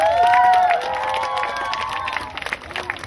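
Outdoor crowd applauding and cheering at a town-square running event, loud at first with a whistle-like tone, then easing into steady clapping and scattered shouts with no talk.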